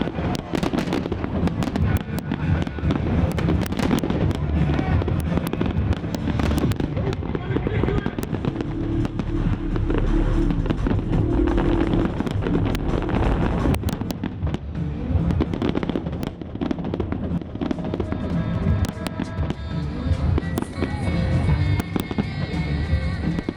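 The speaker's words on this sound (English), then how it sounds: "ready for the formal start of City of Culture with a massive firework and music show" Massive fireworks display opening the City of Culture 2017 celebrations, a dense, continuous barrage of booms and crackles with music and crowd noise mixed in throughout.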